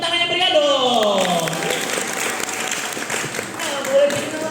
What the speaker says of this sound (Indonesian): Beri tepuk tangannya pria dong.